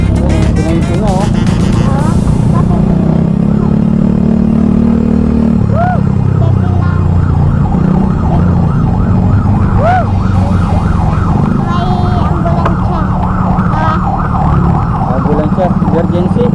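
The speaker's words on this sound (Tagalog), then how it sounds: "Ambulansya, emergency." Ambulance emergency siren wailing in a steady rising and falling pattern over loud nearby traffic and engine rumble, persisting throughout, with people talking underneath.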